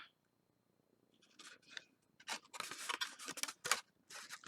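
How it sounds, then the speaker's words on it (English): Scissors snip and trim a paper card for a handmade memory dex card holder, a run of close, crisp rasping cuts that start quietly and grow into a dense, uneven burst of snips. "just take your scissors and trim it to make it match up"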